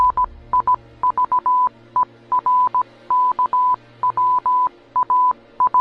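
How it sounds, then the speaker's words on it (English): Beeping audio from a TikTok video, likened to Morse code, plays as loud, clean, mid-pitched tones in short and longer bursts. The bursts come in irregular groups with brief gaps, alone and without talk. "Audio from the final video posted sounds like Morse code"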